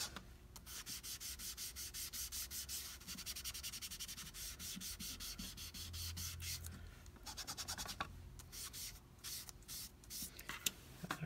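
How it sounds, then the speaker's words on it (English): Steady back-and-forth rubbing, like sanding a surface by hand, rasping in even strokes for several seconds, then broken into shorter, choppier strokes near the end; close and alone, with no talking. "I'm just going to rub this back and forth."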